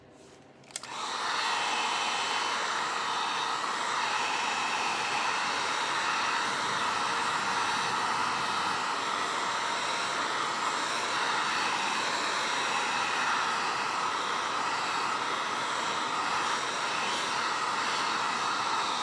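A hair dryer blowing on a dollar-store football during a makeover, switching on after a moment and then roaring steadily and loudly, close by and with no voices.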